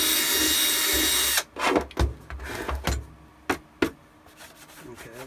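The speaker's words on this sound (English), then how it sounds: "doing these kind of drill jobs" Power drill boring into plastic Shadow Trooper armor parts: a steady high whine that cuts off, then several short, close bursts of drilling and scraping with brief pauses between them.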